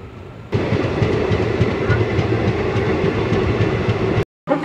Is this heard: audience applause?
no